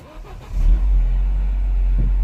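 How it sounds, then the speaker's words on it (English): A Mini One R56 with an ABS fault starts up: a brief starter crank, then the engine catches with a loud rev and settles into a steady, close idle. "Let me start the car."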